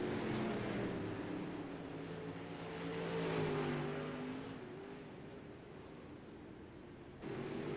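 Dirt late model race cars roar off together after a restart, a steady engine drone swelling to a louder peak midway before easing back, continuous and moderately distant.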